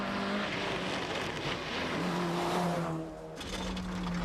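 Rally cars racing at the 1994 Rally of the Lakes, a Toyota and a little Vauxhall Nova, engines revving hard with rising and falling pitch as they accelerate, loud and near, with a short dip before the roar returns.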